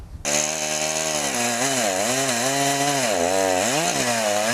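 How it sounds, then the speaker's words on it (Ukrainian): A chainsaw cuts pine trees during sanitary forest clearing. The engine snarls up loud and close, then rises and falls in pitch as it bites into the wood, and it stops abruptly after a few seconds. "Деревину спилюємо на вигляд"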